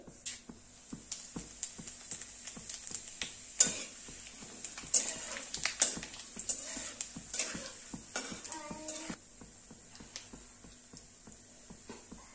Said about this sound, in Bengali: আমি তেলের মধ্যে দিয়ে দেবো 2-3টে তেজপাতা, দিয়ে দেবো 2-4টে শুকনো লঙ্কা, দিয়ে দেবো গোটা জিরে